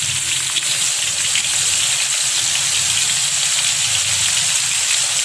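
Blended spice paste frying in a pan for jackfruit rendang gives a steady, dense sizzle with a watery hiss. It holds evenly throughout, with no voices.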